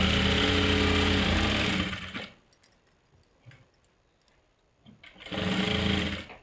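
Two loud bursts of an electric sewing machine stitching a salwar seam, a steady whirring run at the start and another near the end, separated by a quiet stretch of faint handling clicks.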